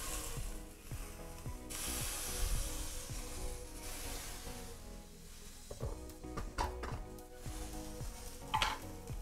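Eggs and potatoes fry in a pan for a hearty farmer's breakfast, with a soft continuous sizzle plus scraping and clacking of a utensil against the pan.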